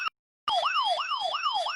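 A loud electronic siren wails in a fast rising-and-falling sweep after a brief silence, repeating several cycles up close.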